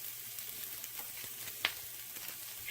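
Brown sugar and crushed red pepper flakes cook down in a pan toward caramel, a soft steady sizzle with a few sharp pops and light stirring, faint and close.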